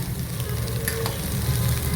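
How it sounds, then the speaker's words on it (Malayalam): Kashmiri chilli powder and turmeric powder sizzle in hot oil in a pan for a mushroom masala while being stirred, with a steady close frying hiss and soft scraping and no talk. "ഒരു 30 സെക്കൻഡ് വരെ ഒന്ന് ഇളക്കി കൊടുക്കുക"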